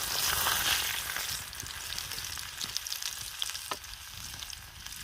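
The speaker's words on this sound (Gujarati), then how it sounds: "તેલ આવી ગયું તો આપણે લસણ નાખી." Garlic dropped into hot oil for a green chickpea curry, frying with a steady broadband sizzle that spikes loudly at first and then settles into a continuous crackle with scattered pops, with no voices.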